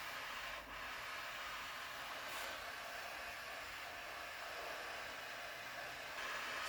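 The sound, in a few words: MAP gas torch heating a part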